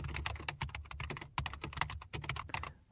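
Quick, close typing on a computer keyboard, a dense run of light key clicks with a few brief pauses and no voices.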